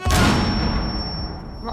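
An impact grenade detonates in Rainbow Six Siege on the Chalet map, a deep, loud thump that booms and slowly decays over about a second and a half, with voices chattering in the background.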